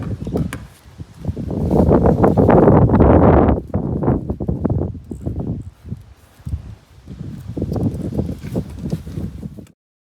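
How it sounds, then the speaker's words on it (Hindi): Strong wind gusts roar in uneven surges with rough rustling, loud and close, briefly dropping away before blowing up again. "तेज़ हवा चल रही थी"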